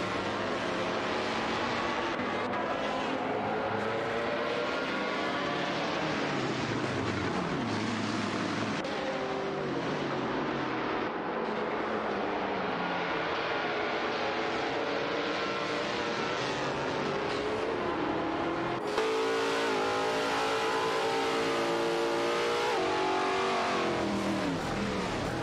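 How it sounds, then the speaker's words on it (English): Race cars accelerating hard on a circuit during a close battle for position, engines roaring loud and continuous with rising and falling revs and passing whooshes. "The tension is palpable as both cars accelerate toward the next corner."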